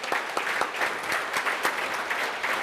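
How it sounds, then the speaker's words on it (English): A conference audience at YSL 2023 gives the panel a warm round of applause: dense, continuous clapping with a few sharper claps standing out, heard on its own and fairly close. "let's have a nice round of applause for them"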